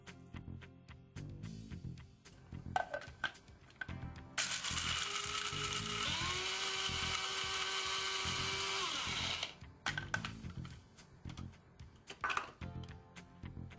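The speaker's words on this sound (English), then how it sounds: "Peel and grind the ehu with a dry mill." Ehu (calabash nutmeg) ground in a dry mill for yam pepper soup, a loud steady whirring grind lasting about five seconds, framed by lighter clicks and clatter before and after.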